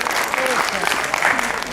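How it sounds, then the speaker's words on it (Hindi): Steady applause from the audience at an international Hindi poetry gathering in Lucknow, honoring a poet after her reading, with tonal voices and chatter mixed through the clapping. "इसके लिए भरपूर तालियों से आशीर्वाद दीजिए अर्चना जी को।"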